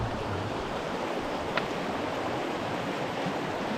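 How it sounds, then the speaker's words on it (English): Steady broadband rush of water flowing through a dense swamp in the Dolly Sods Wilderness, spilling over and overflowing into a nearby channel, close and continuous with no pauses. "the water comes and then just overflows into right here"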